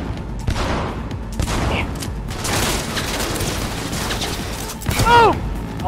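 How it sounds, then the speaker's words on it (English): Pistol gunfire in the video game Cyberpunk, with repeated close shots and mechanical clatter amid busy combat noise, plus a louder burst near the end. "This pistol is really good."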